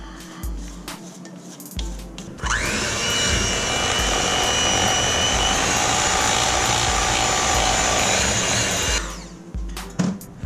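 An electric mixer runs steadily for about six seconds, a loud whining hum while mixing muffin batter, with brief clinks and handling noises before it starts and after it stops.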